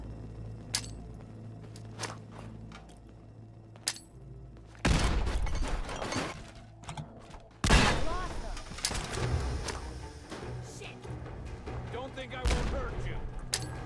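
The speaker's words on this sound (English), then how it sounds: "they're guns, dude. They're guns." Guns fire in Fallout 4 in loud, sharp bursts, with scattered single shots and clicks between two heavier volleys.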